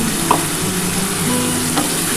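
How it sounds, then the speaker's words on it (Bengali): Spice paste thinned with water sizzling and frying in a pan for a pomfret and potato fish curry, with a steady hiss broken by a couple of scraping stirs of the spoon, close up and alone. "বন্ধুরা দেখো মশলাটা কিন্তু খুব ভালো করে কষিয়ে নিচ্ছি।"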